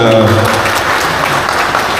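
Applause from a crowd gathered at a community programme for a fishing community, a steady wash of clapping with a voice speaking over it near the start.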